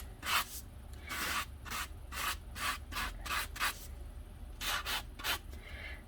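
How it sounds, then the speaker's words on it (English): Short, rasping strokes of a coarse sanding block scuffing across a paper craft piece, close and quiet, coming in irregular bursts with brief pauses between them. "This is a pretty coarse sanding block."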